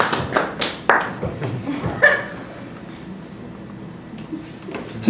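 Scattered, sparse clapping comes from a live comedy audience: a handful of sharp claps and a few chuckles in the first two seconds, thinning out into near quiet.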